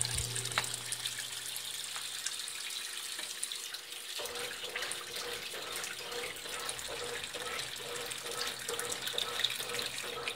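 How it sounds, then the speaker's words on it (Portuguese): Two Brastemp Clean 5 kg washing machines, both fed from the same tap, take in water together, giving a steady broadband rush of filling that holds throughout with no voices. "Elas estão enchendo praticamente juntas. Elas estão ligadas na mesma torneira."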